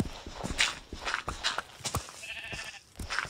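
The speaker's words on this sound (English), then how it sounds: "Hi, sheep." Sheep bleating in Minecraft: several short, nasal bleats repeat close by at irregular intervals over quiet background noise.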